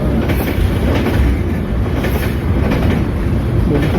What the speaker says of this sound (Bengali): রেল লাইনের এখানে যে আমি আটকা পড়লাম ট্রেনটা গেল